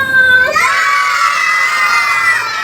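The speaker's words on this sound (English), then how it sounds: "सबसे पहले scream." A group of children at a workshop screams together in one loud, sustained shout that carries on for a couple of seconds, close by and alone with no talk over it.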